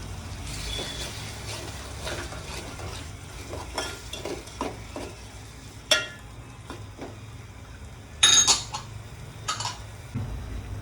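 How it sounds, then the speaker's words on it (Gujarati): Garlic and onion paste stirred into gravy in a pan for khichdi, a soft continuous sizzle with scraping stirs and a few sharper clinks of the spoon against the pan, close and without speech. "હવે એમાં આપણે લસણ, ડુંગળીની પેસ્ટ એડ કરશું."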